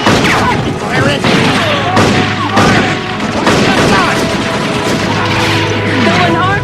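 Gunfire volley in a TV drama battle scene, dense rapid shots and booms throughout, loud and continuous, with shouting voices over the top.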